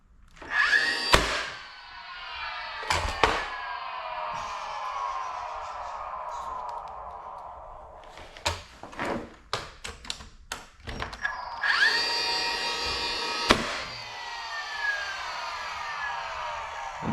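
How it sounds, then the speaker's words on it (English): Power tool work while trim is nailed onto wall panels, whining motor bursts and sharp percussive hits scattered through, close and loud, with short pauses between bursts. "And then just work your way, nailing the trim."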